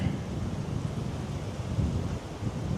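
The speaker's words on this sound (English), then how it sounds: "it's quite windy up here" Low, rumbling gusts of wind on the Eyre Peninsula coast buffet the microphone continuously, a dense muffled roar with no voices.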